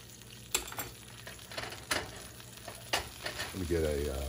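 Eggs frying in a cast iron pan, crackling and sizzling close up, with several sharp spatula scrapes and clanks against the iron and a brief low hum near the end.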